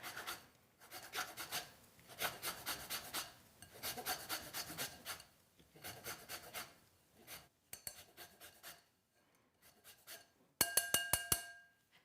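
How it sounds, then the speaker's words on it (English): A whole lemon is scraped against a grater for a lemon crumble topping: quick, dry rasping strokes come in bursts with short pauses, close and fairly loud, ending in a sharper, brighter run of scrapes. "So I'm zesting this entire lemon to go into just the crumble."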